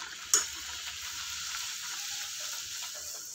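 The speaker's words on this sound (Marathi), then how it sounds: "आपण पटापटा पुऱ्या सगळ्या तळून घेऊया" Puris deep-frying in hot oil for a vegetarian thali, a steady close sizzle and bubbling throughout with one brief sharp clatter near the start.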